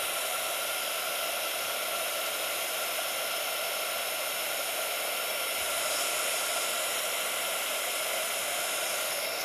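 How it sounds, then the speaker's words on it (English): A heat gun blows a constant, even hiss of hot air while melting glittery embossing powder on a card craft. The hiss is close and unbroken throughout, with no voices. "So I am going to just heat emboss this."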